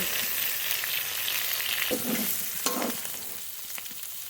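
Pointed gourd (potol) frying in oil in a pan gives a steady close sizzle throughout, with a couple of brief stirring scrapes partway and no talking.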